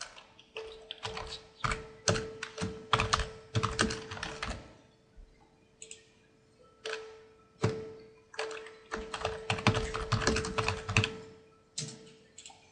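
Fingers type an address on a computer keyboard in bursts of rapid, close, clicky keystrokes separated by short pauses.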